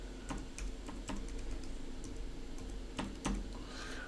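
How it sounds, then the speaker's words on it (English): Light tapping on a computer keyboard, a loose run of soft keystrokes with small pauses over a steady low room hum, close and fairly quiet. "So let me just type something in here."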